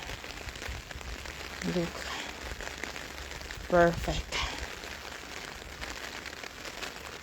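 Rain falling on a summer day in Switzerland, a soft steady patter throughout with two brief spoken remarks over it.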